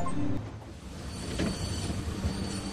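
A train runs in The Walking Dead video game, a steady low rumble with a faint high squeal and a brief louder swell, heard alone without talk.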